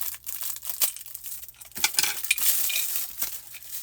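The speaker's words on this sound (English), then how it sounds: "let me go ahead and cut this open" A mail package being cut open, with crinkly plastic and paper rustling, scraping and tearing in uneven bursts, close and fairly quiet.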